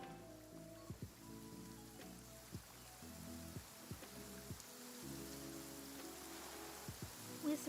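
Heavy rain in the video game Genshin Impact, a steady hiss of downpour on surfaces with gentle game music tones and occasional soft thumps, even and moderately quiet, with no voices.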